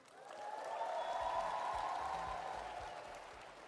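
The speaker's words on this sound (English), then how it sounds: "Can we stand up and give these graduates a loud round of applause?" Applause from a large audience for university graduates at a graduation ceremony in a convention centre hall, a steady wash of clapping that swells toward the middle and holds without voices on top.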